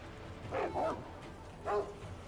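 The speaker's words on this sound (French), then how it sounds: "Est-ce que c'est les chiens?" Dogs bark in the video game Sekiro: two short yapping barks, the first a quick double bark and the second a single one a second later, over a quiet background.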